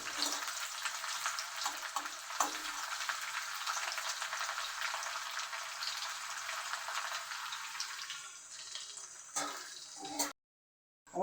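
Garlic and leaves frying in oil as a home remedy sizzle steadily with a bright, crackling hiss that holds for most of the clip, with a few louder pops before stopping abruptly near the end.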